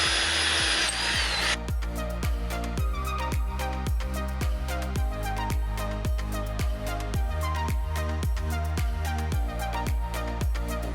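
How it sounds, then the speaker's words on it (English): A power drill fitted with a 17/64 bit bores through a metal pipe, loud and close, with a steady grinding whine pulsing in fast regular chatter after a brief high start. "and drill through it."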